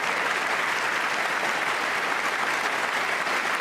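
Steady, dense applause from a large audience at the State of the Union address, loud and continuous throughout with no break.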